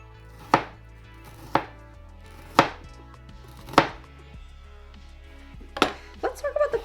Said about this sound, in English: let's get some chopping ASMR in here really quick.